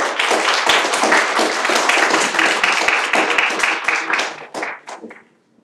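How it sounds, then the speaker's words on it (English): Audience applause at a memorial oration honouring the speaker, dense hand claps filling the room for several seconds, then thinning into a few scattered claps before stopping. "Please have a round of applause."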